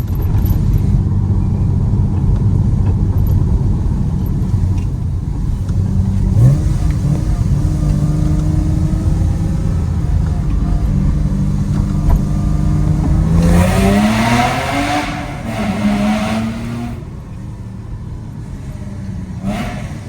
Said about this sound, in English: I challenge anyone to tell me another car that gives you that much sound without even breaking the law